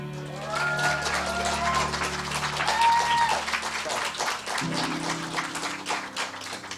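Audience applause and cheering at a Native American open mic night, a steady wash of clapping from a crowd with some voices and a sustained musical tone running underneath.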